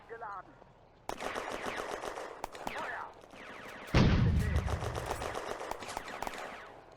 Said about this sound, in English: The mortar opens a fire mission.